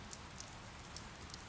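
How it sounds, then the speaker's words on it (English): Rain falling in the video game Fire Emblem: Three Houses, a faint, steady, even hiss with a few soft drop ticks and no voices. "It's raining, Professor."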